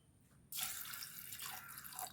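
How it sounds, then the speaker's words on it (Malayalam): Water pours steadily into a cooking pot after a quiet start, a close, continuous splashing stream with no voices. "കുറച്ച് വെള്ളം ഒഴിക്കുക."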